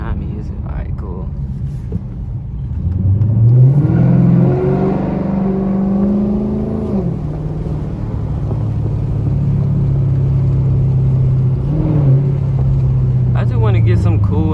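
A rebuilt Chrysler 300 SRT8 with the 392 engine pulls away, its exhaust rising into a throaty rev and then settling into a steady rumbling cruise, loud and close throughout.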